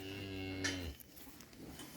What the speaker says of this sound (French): Il y a quelques vaches ici.